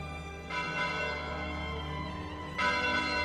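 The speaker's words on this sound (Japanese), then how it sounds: "これは時計塔の鐘の音であるという認識が共有された" A clock tower bell in the game Ever Maiden rings in two resonant strikes, each leaving a sustained, slowly decaying metallic tone; fairly faint, with no talking.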